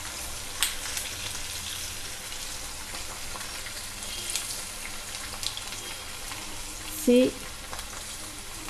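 Garlic cloves frying in oil in a pan for homemade amla (gooseberry) pickle, giving a steady soft sizzle throughout with a brief louder pop near the end and a faint voice.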